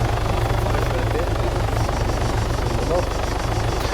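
Helicopter rotor blades in a video game thrum steadily and loudly throughout, a continuous low chopping drone with a faint voice in the background.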